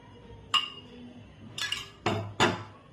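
Metallic clinks and clatters of a mixer grinder bowl being handled in a home kitchen while red chillies are readied for chutney, a single clink followed by a cluster of three sharper knocks, close and fairly loud.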